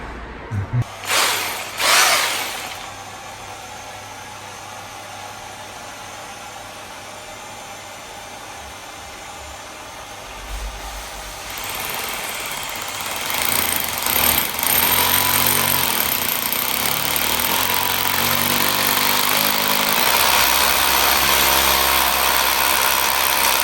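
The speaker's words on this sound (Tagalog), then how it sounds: "mag-drill na tayo" A power drill runs in a home, starting with a few short bursts and then whirring steadily and loudly through the second half, with a low hum underneath.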